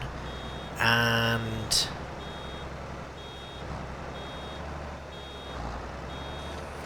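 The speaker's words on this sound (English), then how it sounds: "the baler will start beeping at us to tell us, warning, you are nearly full" A baler in Farming Simulator 22 sounds a loud electronic warning tone when nearly full, one long buzzing beep followed by a short second one, over a steady tractor engine rumble with someone speaking briefly.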